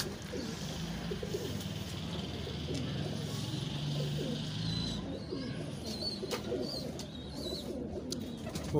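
Pigeons cooing softly amid a busy outdoor background, low murmuring calls repeating steadily throughout.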